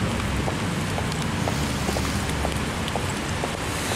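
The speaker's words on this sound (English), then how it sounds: "Now, I have no umbrella with me, and it's fucking raining." Steady rain falls outdoors on a morning with no umbrella, a dense continuous patter with scattered drop ticks and some wind rumble, even in level throughout and without talk.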